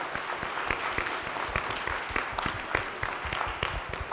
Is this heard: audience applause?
yes